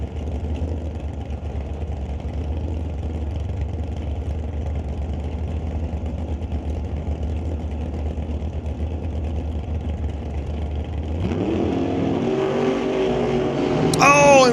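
Drag racing cars at the West Coast Outlaw Shootout sit with engines idling low and steady, then one launches hard off the line with a loud rising roar and tire smoke near the end.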